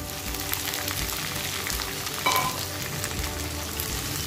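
Green chillies fry with garlic in a pan for dahi mirchi and are stirred steadily, producing a constant close sizzle with light stirring scrapes.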